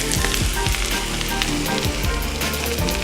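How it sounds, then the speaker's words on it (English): Pork tips with Cajun seasoning, Himalayan salt and black pepper sauté in a hot pan, a dense steady sizzle and crackle close up, with a few low thumps underneath. "We're just going to let that sit and saute for a little bit."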